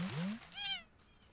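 A cat in the game Wobbly Life gives two quick close meows, the first sliding upward, the second higher and brighter, then quiet.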